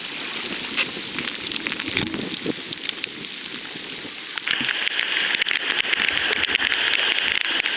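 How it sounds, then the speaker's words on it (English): Steady heavy rain pours down outdoors near a river boat landing, with dense, crackling patter on nearby surfaces, growing louder and hissier halfway through; no voices. "It's starting to pour."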